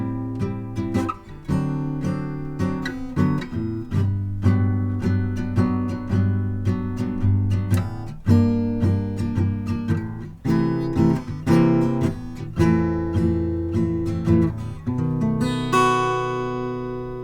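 Guitar plays the bridge of a song, with plucked chords and single notes in an unhurried, steady rhythm, each attack ringing close and clear. A final chord is left to ring out, and no one speaks.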